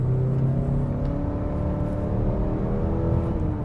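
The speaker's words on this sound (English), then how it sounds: "The takeoff, I've got it floored right now." A 2021 Mazda 3 GT with the 2.5 turbo engine pulls away at full throttle from inside the cabin, its engine note climbing steadily in pitch over a few seconds under muffled road noise.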